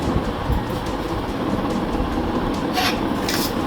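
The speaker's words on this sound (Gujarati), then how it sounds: "આને પણ બરાબર મિક્સ કરી લઈશું." Mango pickle spice masala being mixed in a bowl, a close, continuous gritty scraping and rubbing with a few brighter scrapes toward the end, steady and fairly loud.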